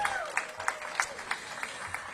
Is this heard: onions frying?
no